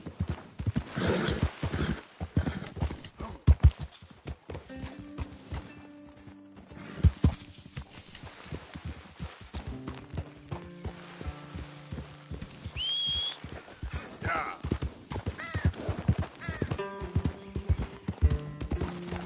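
Horse hooves clip-clop steadily in the Red Dead Redemption 2 video game, with a horse neighing and whinnying now and then over a busy game soundscape.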